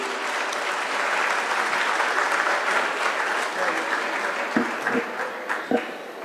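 Steady applause from an audience at a motivational talk, sustained throughout, with a few sharper claps standing out near the end.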